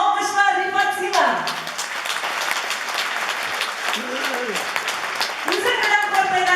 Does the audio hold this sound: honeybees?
no